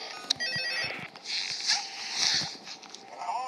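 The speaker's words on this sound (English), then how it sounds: "Here you go, yeah, phone call." A telephone rings in the horror video game Five Nights at Freddy's 2, its bright electronic trill repeating in a short burst before fading into a hollow, droning room tone.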